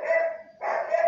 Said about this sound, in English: sorry about the dog's noise